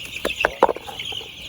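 Layer hens on a farm give a few close, short clucks in quick succession over a faint background hum, with no talking.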